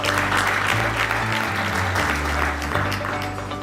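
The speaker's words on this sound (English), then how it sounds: "A big round of applause" Applause from the audience at a university debate as the Kenyatta University proposal team is introduced: steady, dense clapping that holds for the whole stretch, with low hum from the hall's sound system underneath.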